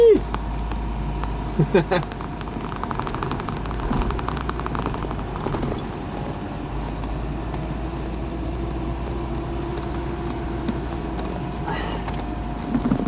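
A Peugeot 404 drives a warm-up lap, its engine rumbling low and steady from inside the car with a few brief mechanical knocks, while someone talks over it.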